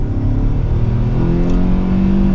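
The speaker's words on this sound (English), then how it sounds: "let's give it another acceleration in the normal setting without using the paddles" A 2024 Hyundai Sonata SEL FWD with a non-turbo engine accelerates in normal mode without paddle shifts, its engine note steady and loud with a rising hum throughout, heard close from inside the car.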